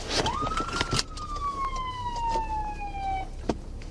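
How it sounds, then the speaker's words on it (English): A single police patrol car siren wail sweeps up, then slowly glides down and fades, heard close by with faint car noise and a few knocks around it. "the feline accidentally set off the car's siren"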